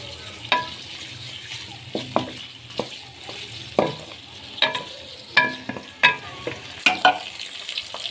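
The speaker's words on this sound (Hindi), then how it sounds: "पंजों को भी आपने ऑयल में अच्छे तरीके से फ्राई करना है।" Chicken feet fry in hot oil with a steady sizzle. Repeated stirring clatters and scrapes against the pan at an irregular rhythm, close and clear.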